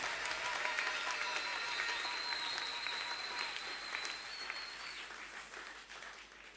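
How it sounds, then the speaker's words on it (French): A church congregation at a revival service claps and cheers in sustained, dense applause that fills the room, slowly tapering over several seconds. "Là, tu peux acclamer fortement."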